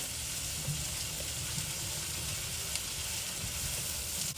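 Shrimp and squash sizzling steadily in a skillet, a constant bright frying hiss with occasional faint pops, heard alone without talking.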